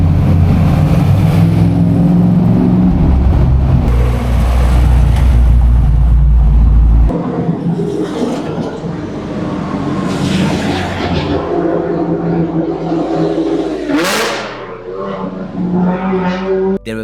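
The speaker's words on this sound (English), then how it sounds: "There were vintage sports cars everywhere." Vintage sports car engines rev along the streets of Modena, Italy, a loud, sustained mechanical roar that swells and dips, with people talking over the traffic noise.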